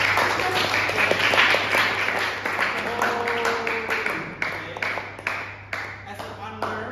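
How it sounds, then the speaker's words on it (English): Classroom applause during a physics lesson, a group of students clapping in scattered, uneven bursts, fairly close, with voices and a steady background hum underneath. "Okay, let's give applause."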